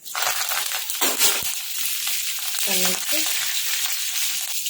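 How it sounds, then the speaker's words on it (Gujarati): Curry leaves and green chillies hit hot oil with crackled cumin seeds, bursting into a loud, close sizzle with sharp spits and pops and a brief clink of a utensil. "આપણે કડી લીમડો લીલા મરચાં એડ કરીશું"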